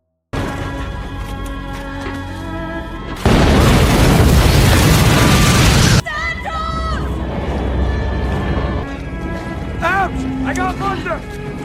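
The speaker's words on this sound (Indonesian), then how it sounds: "Tiba-tiba kapal meledak saat Greer sedang menghidupkan mesinnya." A ship blows up as its engine is started: a sudden loud, broadband blast that roars for about three seconds before cutting off, framed by dramatic music and sound effects with no speech.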